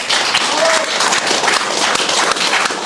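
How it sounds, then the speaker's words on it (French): Applause for a guest on a French talk show: a steady, dense patter of many hands clapping throughout, fairly loud and continuous, with no clear speech over it. "J'ose applaudir mon invité."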